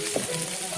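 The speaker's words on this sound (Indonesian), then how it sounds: "ini bawang bombaynya udah layu, lalu ini aku masukkan air sekitar 150" Water poured into a pan of wilted onions sets off a short, steady sizzle, close and fairly loud, with one brief splash near the start.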